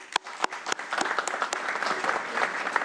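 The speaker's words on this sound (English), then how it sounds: "I'm going to give you an applause for that." An audience at a State of the County Address breaks into applause, starting with a few scattered, sharp claps that quickly fill out into steady, moderately loud clapping.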